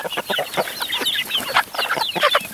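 A flock of chickens clucks busily nearby, expecting to be fed, with many overlapping short calls and chatter in a constant, lively stream.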